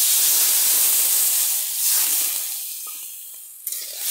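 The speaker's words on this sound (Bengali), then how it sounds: "কচুটা ভাজা ভাজা হয়ে গেছে, লাল লাল হয়ে গেছে। এখন অল্প করে একটু জল দিয়ে দিচ্ছি" A little water is poured into a pan of browned, frying taro, bursting into a loud hissing sizzle that gradually fades as the steam dies down, ending with a faint clink.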